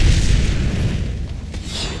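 A grenade explodes in the video game Fable 3, a loud, deep rumbling boom that is strongest at the start and slowly fades into a low roar.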